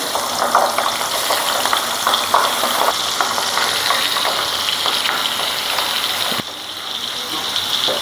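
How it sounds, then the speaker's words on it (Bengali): Pabda fish hits hot oil in a frying pan with a loud, close, crackling sizzle that holds steady, then eases slightly softer toward the end. "তেলটা গরম হয়ে গেছে, দিয়ে দেবো মাছ"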